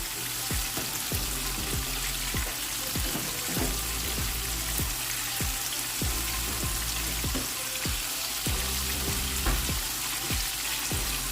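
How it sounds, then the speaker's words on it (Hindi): Fish fries in a pan with a steady, dense sizzle and crackle, punctuated by sharp spattering pops throughout, close and even in loudness with no talking. "दूसरी साइड से भी हम 5 मिनट के लिए फ़िश को फ्राई कर लेंगे"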